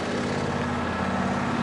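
Petrol lawn mower engine running steadily close by, a loud, continuous droning hum with no pauses.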